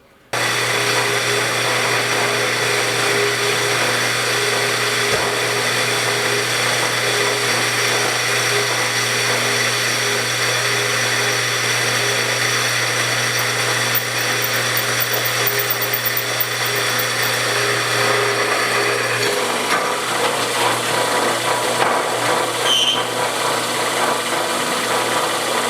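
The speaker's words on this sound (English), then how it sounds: "So this one here, I'll just drill some 3/8 holes, probably going to be good enough." A power drill bores 3/8-inch holes in square steel tubing, a steady loud whirring grind that runs almost unbroken for over twenty seconds before the pitch shifts near the end, with no talk.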